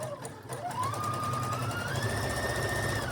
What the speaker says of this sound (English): So to start sewing, just drop your presser foot.